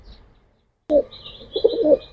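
Jelly pigeons at a pigeon seller's stall give soft cooing calls, a brief burst followed by a longer run of coos close by, with a thin high hiss in the background.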